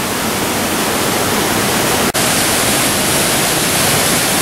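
Inukai Falls in Kagoshima, Japan, a 36-metre waterfall, pours as a dense, loud, steady roar of rushing water that fills the whole clip without a break.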